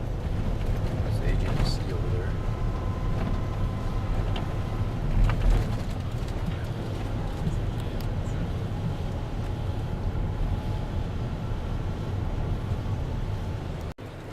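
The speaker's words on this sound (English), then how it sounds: "This is the ferry." Steady low rumble of a ferry boat crossing the water near Canakkale, Turkey, a continuous droning hum with a faint murmur of voices in the background.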